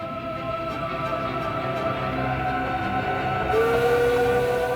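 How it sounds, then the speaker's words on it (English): Steam locomotive of the Hogwarts Express running near the 21-arched Glenfinnan Viaduct in Scotland, a steady rumbling train with sustained whistle-like tones that swell louder toward the end, no voices. "But this isn't just any old steam train."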